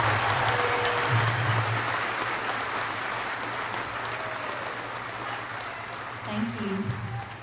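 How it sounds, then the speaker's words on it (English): Graduation crowd at the 2018 HCHS ceremony claps for a group of graduating students, a broad, fairly distant wash of applause over a low hall hum that thins out, with a voice rising near the end. "Please give these students a round of applause."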